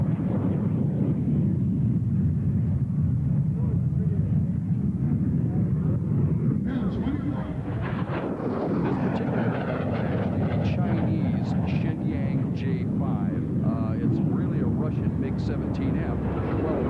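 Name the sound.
MiG-17F jet fighter flying past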